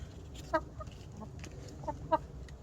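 Rescue chickens cluck in short, scattered bursts over a low, steady background hum, a few calls louder and closer than others.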